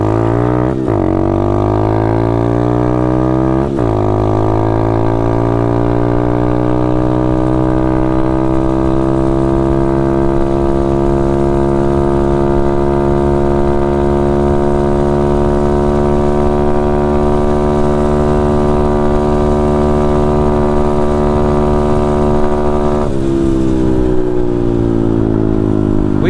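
A Taotao DB17 125cc dirt bike engine with an upgraded carburetor roars up through the revs during a wheelie, holds a long steady high whine, then drops back; loud and close throughout.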